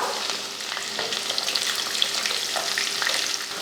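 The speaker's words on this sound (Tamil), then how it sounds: "கடலைப்பருப்பு வந்து ரொம்ப கருக விடாமல் வறுத்துக்கணும்" Chana dal frying in hot oil for rava kichadi, with a continuous crackling sizzle and a few soft stirring scrapes, close and even, no voices.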